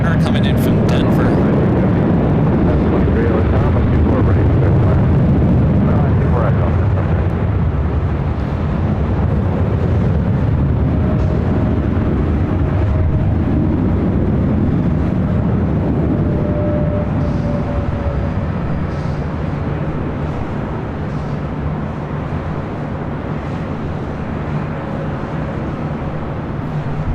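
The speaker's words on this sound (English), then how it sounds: "All right, the sports charter coming in from Denver." A sports charter jet arriving from Denver and landing at LAX, a steady, broad engine roar with rumbling wash that swells and fades slowly over nearly half a minute, with faint radio chatter.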